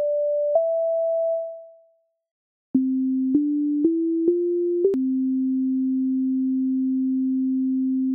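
Pure synthesized sine tones from Chrome Music Lab: one higher note holds and fades, then after a brief silence a lower note steps upward in several quick increments before settling into a long sustained low tone.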